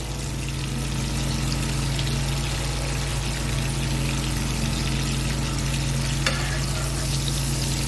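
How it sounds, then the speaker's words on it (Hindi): Cumin seeds sautéing in a mix of butter and oil for pav bhaji give a steady, close hiss of frying that runs unbroken throughout, with a faint low hum underneath and no talk. "और इसको हम थोड़ा सा मक्खन को ऑयल के साथ सौते कर लेंगे।"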